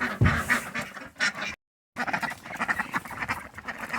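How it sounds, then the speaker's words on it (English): Ducks quacking in a noisy cluster as they are let out of their winter house, a steady run of loud, overlapping calls broken by a short silent gap partway through. "Let's let the duckies out."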